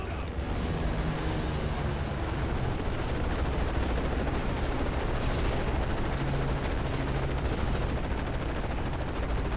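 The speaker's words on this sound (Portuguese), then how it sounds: "Para de me atirar." Continuous rapid automatic gunfire in Call of Duty Modern Warfare 3 forms a dense, loud, unbroken barrage of bursts layered with battlefield noise, holding steady throughout with barely any speech.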